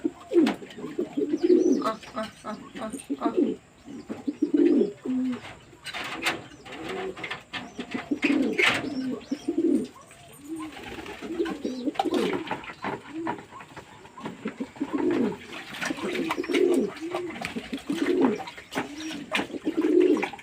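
Domestic pigeons coo steadily in their pigeon houses at a home loft, a dense overlapping chorus of low, rolling calls filling the whole stretch at moderate distance.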